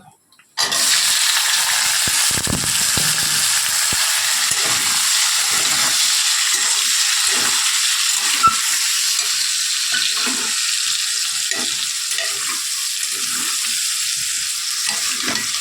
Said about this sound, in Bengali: এখানে যে মটরশুঁটি আর আলুটা একটু ভাপিয়ে নিয়েছি, সেটা একটু ভেজে নেব